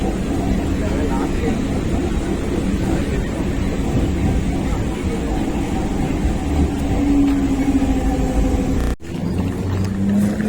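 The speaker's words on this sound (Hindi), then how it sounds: "लोकल ट्रेन हमें अन्नानूर पर छोड़कर जाती हुई" A local train rumbles steadily and loudly, pulling away from Annanur station in Tamil Nadu with a low mechanical roar and rattling, then the noise briefly cuts out before continuing.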